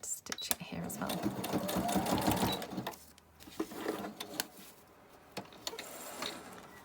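Sewing machine stitching lace onto paper for journal ephemera, a close whirring run of stitches that stops partway, followed by clicks and handling noises, with soft talk over it.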